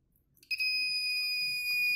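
A DC power supply's short-circuit protection buzzer sounds a continuous high-pitched beep that starts abruptly and holds steadily, loud and shrill, with faint background noise beneath.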